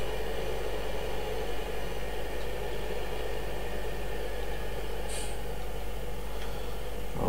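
A tractor engine idles in the video game Farming Simulator 2015, a constant low mechanical drone with a faint whine layered over it, steady and even throughout.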